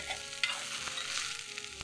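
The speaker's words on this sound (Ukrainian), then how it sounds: "Підсмажимо цибулю, потім до неї додамо гриби" Quiet sizzling of onion frying in a pan, with a few soft clicks and scrapes of stirring.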